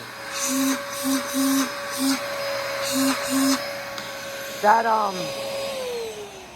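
A Dyson DC33 MultiFloor vacuum cleaner runs with a steady, somewhat clogged whine and weak suction, while a voice talks over it at close range.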